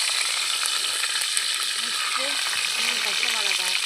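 Curry leaves dropped into hot oil with browned fenugreek seeds for a South Indian tamarind curry crackle and sizzle loudly and steadily up close, with brief chirpy pops toward the end and a faint voice in the background.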